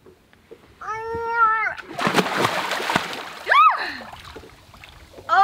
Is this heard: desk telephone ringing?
no